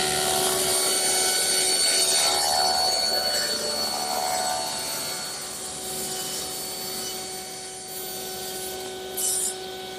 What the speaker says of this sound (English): Now I'll rip it at the table saw.